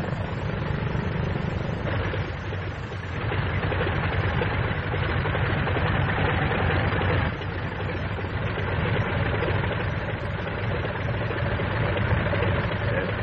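Steady droning roar of a Vought F4U Corsair fighter's piston engine, 1944 era, running loud and continuous without a break, with a slight surge in level partway through.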